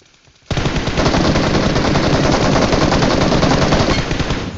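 Automatic gunfire in the mobile battle-royale game PUBG Mobile erupts after a brief quiet moment, a loud, sustained rapid burst of shots that goes on without pause to the end.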